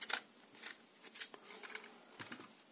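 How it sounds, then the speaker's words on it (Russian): Printed label cut on a Phomemo P12 label printer, a few faint, soft clicks and snips spread across a quiet moment, close up. "Отрезаем получившуюся этикетку."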